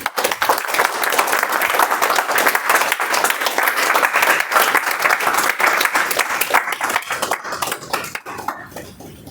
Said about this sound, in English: let's give a big round of applause for Muskan Srivastava